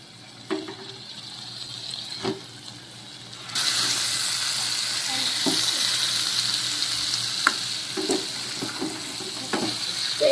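Fried chicken leg pieces go into spiced oil for a spicy village-style chicken kosha. A faint sizzle with scattered clinks swells into a louder, steady frying hiss that stays up to the end, with occasional stirring knocks.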